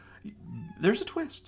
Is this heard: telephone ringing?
no